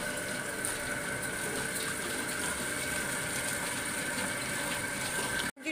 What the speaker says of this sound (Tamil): நம்ம இப்போ நம்ம அரிசி அரைச்சிக்கலாம்.